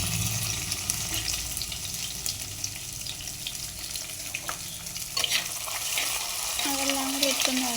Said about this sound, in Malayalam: ഞാൻ ചെറുതായിട്ട് ഇഞ്ചി വെളുത്തുള്ളിയും കൂടി ഇട്ട് ഒന്ന് വഴറ്റിയെടുക്കും